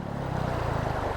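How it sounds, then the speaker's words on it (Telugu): Clear water rushing over rocks in a forest stream, a steady broadband wash with low churning rumble, continuous and fairly loud close by, no voices. "రాయిల మీద వాటర్ పోయే సౌండ్ ఉంటుంది కదా, సౌండ్ కూడా స్పష్టంగా వినిపిస్తుంది"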